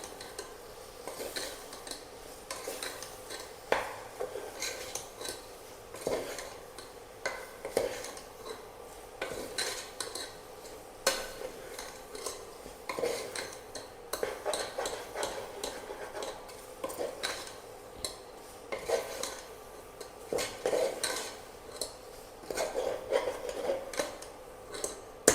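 Cooked soya chunks stirred into curry in a pan, with a steady run of clinking and scraping of a spoon against metal over a faint sizzle, close and fairly quiet, with no speech.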